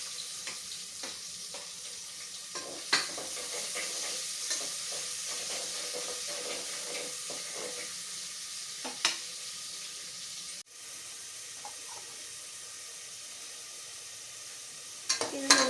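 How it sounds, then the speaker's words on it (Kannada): Onions fry in a pan with a steady, soft sizzle running throughout, broken by occasional clicks and light stirring scrapes, close and moderately quiet. "ಈರುಳ್ಳಿ ಎಲ್ಲ ಚೆನ್ನಾಗಿ ಬೇಯ್ತಾ ಇದೆ."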